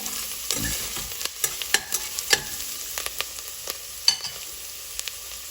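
Sliced onion softening in an oil-filled pan for Kerala pavakka theeyal, a steady close sizzle broken by scraping stirs and sharp spoon clinks against the pan, with no talking.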